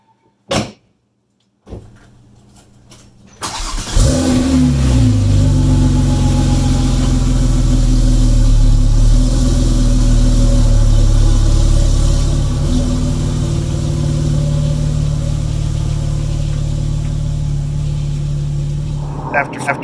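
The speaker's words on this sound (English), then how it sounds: "All right, JC, this is what the starter sounds like." A Porsche 997 Turbo, just back from major engine-out repair, cranks on its starter after a few short clicks and bumps, then fires into a loud, deep, steady idle that runs on close by for the rest of the stretch.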